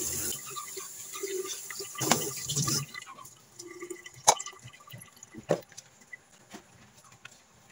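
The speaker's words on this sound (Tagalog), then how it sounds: "Lagyan natin ng kunting tubig." A small amount of water is poured into freshly squeezed coconut milk, a brief splashing pour at the start followed by quieter drips and clinks of a container, close by in a kitchen.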